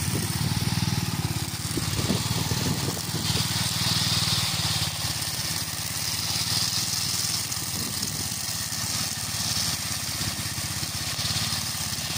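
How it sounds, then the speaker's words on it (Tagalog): A homemade lawn mower's small Robin engine runs steadily and loudly throughout with a continuous buzzing drone, with no pauses. "ito yung aming lawn mower"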